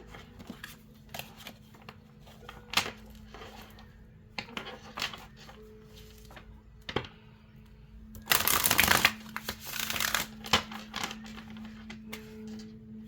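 Tarot cards shuffled by hand with soft riffles and taps, then a louder burst of rapid shuffling in the middle, close up.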